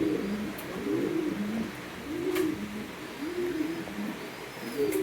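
Domestic pigeons at a breeder's sale, including Danish four-feather birds, cooing in soft repeated rolling phrases, several calls close by over a quiet background with no talk.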